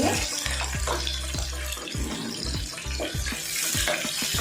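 A large chopped onion frying in a pan for soya chunks biryani gives a dense, steady hiss of sizzling oil, broken by scraping knocks of stirring and occasional low thumps.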